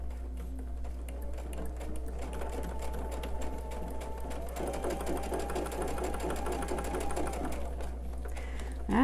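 Sewing machine runs steadily while stitching a quilt block seam for a star sampler quilt, a fast even hum over a low mains buzz, with a brief handling noise at the end.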